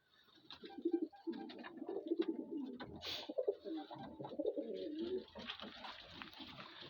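Young pigeons and doves coo repeatedly in a loft, soft throaty calls rolling on and off throughout at close range with faint background chirps.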